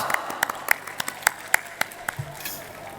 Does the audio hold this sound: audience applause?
yes